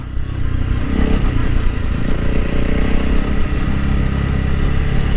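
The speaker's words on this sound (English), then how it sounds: "it's been a great ride today with Dawn." Honda CRF300L Rally motorcycle riding off-road, a steady loud close engine drone with rattling clatter and rumble, continuous throughout.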